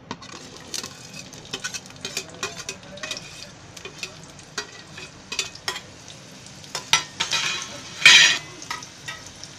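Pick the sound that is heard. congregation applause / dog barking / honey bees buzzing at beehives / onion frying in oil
onion frying in oil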